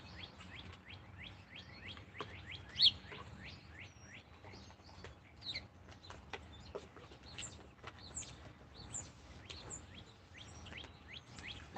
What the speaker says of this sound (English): Good morning, pretty birds.